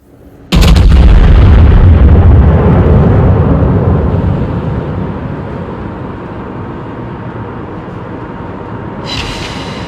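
In World of Warships, the German battlecruiser Mackensen fires a gun salvo: one sudden, very loud booming blast that rolls on into a long rumbling decay, with a brief higher crackle near the end.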